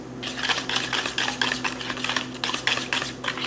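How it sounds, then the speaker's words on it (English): A utensil stirs barbecue sauce and apple cider vinegar together in a container, giving a steady run of soft, rapid clinks and scrapes at close range, with no talking over it. "Gonna mix all this because it actually looks a little gross."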